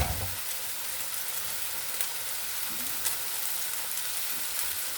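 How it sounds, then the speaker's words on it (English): An egg fries in a pan alongside sausages, giving a steady, close sizzle and crackle that runs the whole time with small pops, with no talking. "Into that area, we drop an egg. Hopefully the egg will fill the whole space."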